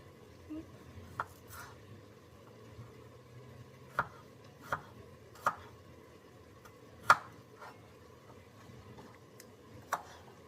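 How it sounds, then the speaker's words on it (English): A knife chops vegetables into small pieces for chili, giving sparse, irregular sharp taps on a cutting board that are fairly faint against quiet room background. "Cut these up nice and small."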